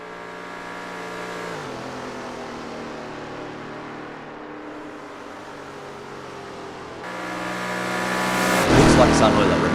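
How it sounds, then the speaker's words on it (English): Race car engines drone from a Lola T70 MkII at Riverside in the Assetto Corsa video game, steady and layered, then rising to a louder, harsher roar near the end, with a commentator talking over them. "The roaring engines are echoing Sunoiler's battle cry"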